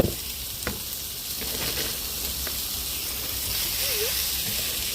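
Vegetables hiss and sizzle in a pan with chicken, a steady frying crackle with a few sharp pops and stirring scrapes, close and alone.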